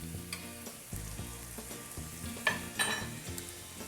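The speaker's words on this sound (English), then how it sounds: "I would turn it down and just let it simmer on the stove for a minute." Sauce with Worcestershire cooking on the stove, bubbling and sizzling close by with repeated stirring clatters and a couple of sharper knocks, with no talking.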